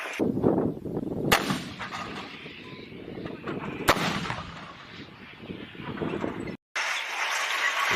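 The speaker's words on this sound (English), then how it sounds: "VDV D-30 howitzers being used by the Russians." Russian VDV D-30 howitzers fire in war footage, heavy booming blasts with long rumbling tails, two sharp reports standing out over a continuous distant roar of battle.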